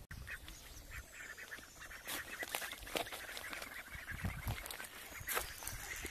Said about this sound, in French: Oh, tous les canards.